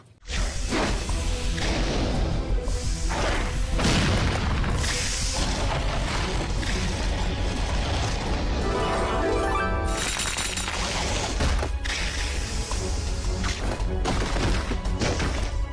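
In the game Wings of the World, a soldier's corpse is blown apart in a loud sequence of whooshes, crashing impacts and booming hits over a constant dense bed of sound, with one sharp break near the middle.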